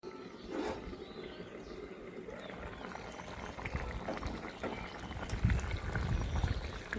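Chicken simmers in water in a covered pot, giving a soft, steady bubbling hiss with occasional faint pops and clinks, fairly quiet and close.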